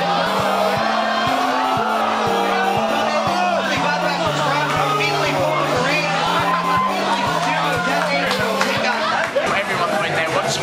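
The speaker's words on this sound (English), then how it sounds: "the atmosphere, the crowd, the cheers" Crowd at a live gaming event, a dense continuous roar of cheering, whooping and chatter from many people, loud and steady throughout, with a rhythmic musical tone pulsing underneath.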